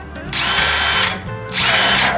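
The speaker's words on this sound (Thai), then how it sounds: "ซึ่งการเจาะพื้นนะครับผมจะใช้สว่านโรตารี่นะ" A rotary hammer drill bores holes into a concrete floor at a home extension, two loud sustained grinding bursts close by with a short dip between them.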